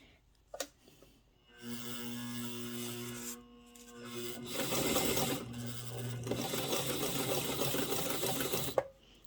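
A sewing machine stitching bias binding, its motor humming in two close, steady runs separated by a short pause, with a few small clicks at the start and end and no talking.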